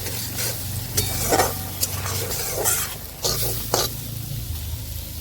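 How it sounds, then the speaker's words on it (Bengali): Spice paste with a little boiled water being stirred in a wok (kadai), frying with a soft steady sizzle while a utensil scrapes in short bursts, close and moderately loud, with no talk. "কড়াই সেদ্ধ জলটা অল্প একটু দিয়ে মশলাটা একটু হেলুমি করে নেবেন"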